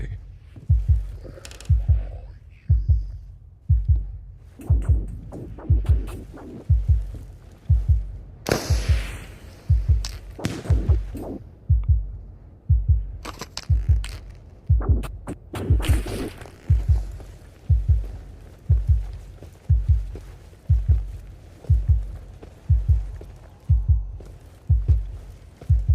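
A steady in-game heartbeat from the video game Into the Radius thumps about once per second throughout. The deep, even pulses run without pause, with a few brief scattered noises over them.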